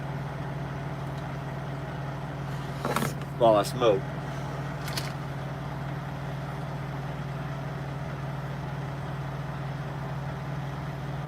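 A truck engine idles at a Flying J truck stop, a steady low rumble running continuously in the background while someone talks briefly nearby.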